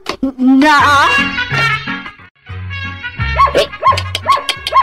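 A dog barks and yelps repeatedly, loud and close, in uneven bursts with short whiny tones between, over a low steady background.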